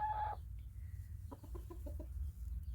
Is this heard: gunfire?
no